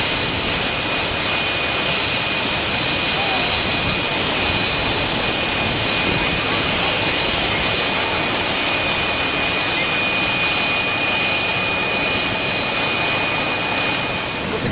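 A chartered jet airplane carrying the SDSU team to Oklahoma roars steadily throughout, a loud, unbroken engine and air rush with no pauses or changes in level.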